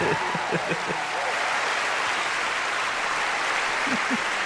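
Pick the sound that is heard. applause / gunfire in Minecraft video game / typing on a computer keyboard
applause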